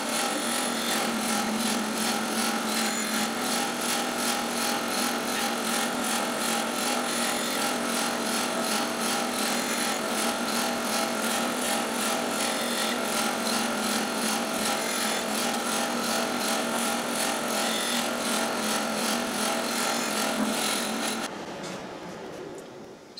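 A segmenting carriage feeds wood segments past a blade for about 21 seconds of steady, even cutting noise, which then stops abruptly near the end with no one talking.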